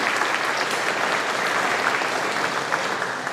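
Audience clapping at a middle school band concert, a dense steady wash of applause filling the room without a break, loud and sustained throughout.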